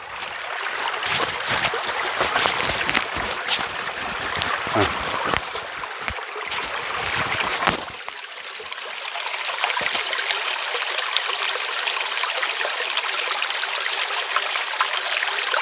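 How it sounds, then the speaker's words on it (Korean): Steady babbling creek water flows continuously nearby in the eco-forest at Sutasa Temple on Gongjaksan, Hongcheon, a broad rushing wash with some louder splashy moments early on, no voices. "개울 물소리 야"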